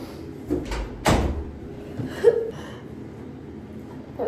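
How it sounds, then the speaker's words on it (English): A door is shut indoors, giving a single solid thud with a rattle at about one second, followed by a few softer knocks and household movement. "Did I close the door?"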